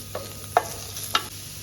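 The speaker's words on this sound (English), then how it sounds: "We are done with sauteing our mushrooms and onions" Mushrooms and onions sautéing in a pan, a soft continuous sizzle punctuated by two or three brief clinks and scrapes of a stirring utensil, quiet and close, no speech.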